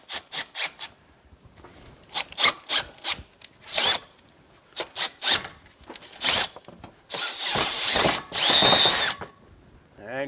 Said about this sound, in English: So I do have a long shank 5/8 drill bit, which I'm going to take and remount this hole